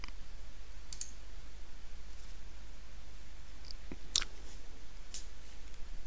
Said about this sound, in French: On clique ici sur oui.